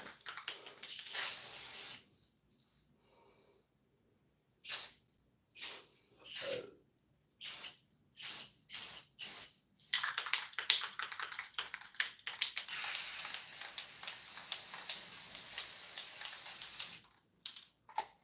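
An aerosol can sprays clear coat onto a guitar pedal in short bursts, quick close hisses with gaps between, then one longer steady spray near the end.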